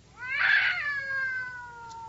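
A cat yowls in a loud, drawn-out caterwaul that swells then slowly trails off, heard alone and close with no talking.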